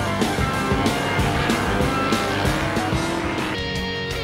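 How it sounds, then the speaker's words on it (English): V8 Ute race cars circle the Adelaide street circuit under safety car, engines droning loudly and continuously with repeated pulsing surges as the field passes close by, tires squealing briefly. "Plenty of action in Adelaide with the V8 Utes under safety car."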